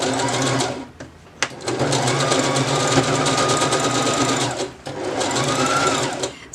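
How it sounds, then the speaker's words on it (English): A sewing machine runs in steady continuous bursts, stitching a seam with a 1/2 inch seam allowance, pausing briefly twice before resuming at a close, even hum. "we just go ahead and sew this in with a 1/2 inch seam allowance"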